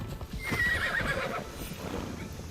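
A horse in the video game Assassin's Creed Shadows whinnies in a rising, shaky neigh over a few soft clip-clopping hoof steps, close and clear with no talk.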